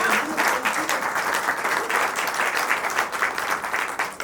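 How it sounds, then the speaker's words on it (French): Audience applause at a film premiere screening, sustained clapping from a full room with a lively, uneven patter and faint voices mixed in. "On peut l'applaudir encore bien"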